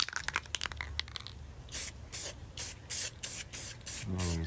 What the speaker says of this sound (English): I'm just going to use some Rust-Oleum Clear.